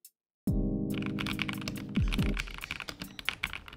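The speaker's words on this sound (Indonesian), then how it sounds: "suara yang dihasilkan dari keyboard ini dengan switchnya" A Press Play Rover 84 mechanical keyboard is typed on quickly, making a close, dense run of crisp key clacks that thins into scattered taps.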